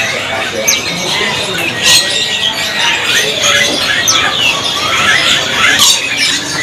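Nias mynas at a bird market stall at Pramuka market give a run of loud, harsh squawks and chattering calls, close and overlapping, over a busy background hum.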